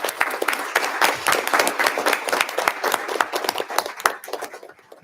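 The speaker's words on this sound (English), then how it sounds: "how about a round of applause for our class?" Lively applause from an audience at a school board meeting, honoring a class of students; many sharp individual claps form an uneven, energetic patter that tapers slightly toward the end.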